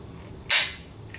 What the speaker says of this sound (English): in order to decock the gun, you just press this down right there